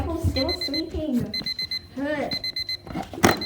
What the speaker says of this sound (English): I had enough of this stupid alarm clock.